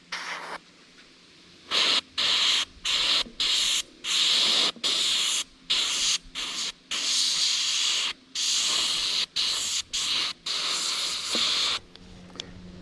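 Airbrush sprays paint onto a reproduction largemouth bass replica in a series of short hissing bursts separated by brief pauses, close and clear with no talking.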